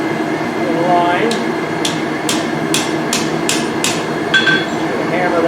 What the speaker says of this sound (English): Just going to hammer that down in a little bit.